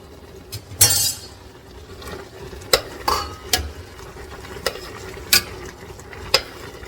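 Turnip greens simmering with smoked turkey get turned over in a pot, a spoon scraping and knocking the pot in a handful of sharp clinks over a low steady sizzle, close up and without speech.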